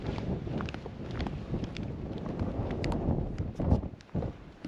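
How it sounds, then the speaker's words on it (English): Gusty, cold wind roars and buffets the microphone steadily on the coast at Albany, Australia, with a few soft thumps and rustles near the end and no speech. "Cold and windy."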